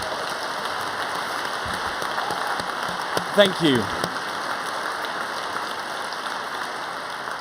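An audience at a human rights plenary session of a youth summit gives steady, dense applause like a wash of rain, with a speaker briefly talking over it midway.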